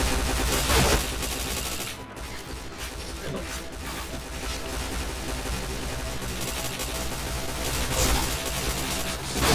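Rapid automatic gunfire rattles through a shooter video game in dense bursts, loud and nearly continuous, with game sound effects layered over it.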